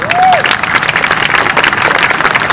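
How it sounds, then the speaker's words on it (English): A crowd applauds steadily, a dense wash of many hands clapping, loud and sustained throughout, with a few faint cheers mixed in. "Round of applause."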